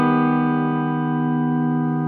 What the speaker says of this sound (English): So it sounds like this.